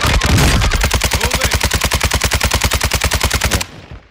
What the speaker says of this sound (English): I'm shooting his partner.